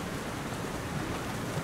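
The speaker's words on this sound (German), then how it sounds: "Jetzt regnet das Ganze" Rain falls steadily in Far Cry 2, a dense even hiss of downpour with no other sounds on top.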